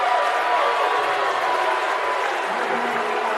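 A home crowd cheers and claps steadily in a high school basketball gym after a foul is called in a regional game, a broad, loud roar that holds for several seconds.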